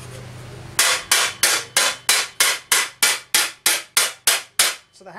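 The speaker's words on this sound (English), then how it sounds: "So the hammer's doing the work" A hammer working a metal medieval armour thigh plate over a stake gives a steady run of about twelve loud, ringing metallic strikes, evenly spaced and close up, each decaying briefly before the next, with no talk.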